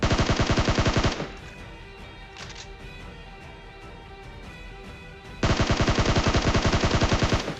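M4 assault rifle fire in PUBG Mobile, two loud rapid automatic bursts separated by a quieter stretch of game ambience with faint tones and small clicks.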